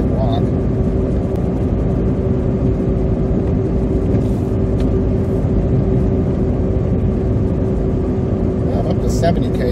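A car drives on an icy road during a winter storm on Prince Edward Island, with a continuous low engine and tire rumble and a steady hum throughout, while someone talks.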